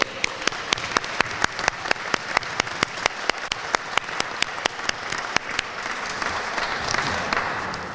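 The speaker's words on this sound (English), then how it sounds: "a round of applause for all our teachers today" Applause for teachers at a graduation ceremony: loud, dense clapping from a crowd with a few sharp individual claps standing out near the front, sustained throughout and swelling slightly toward the end.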